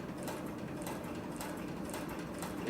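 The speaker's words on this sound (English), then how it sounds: "So we're going to go ahead and go down through 4 layers of 3 to 4 ounce upholstery leather." Cowboy CB341 sewing machine stitching through four layers of 3 to 4 ounce upholstery leather, a quiet, steady mechanical whirr with faint rhythmic ticking throughout.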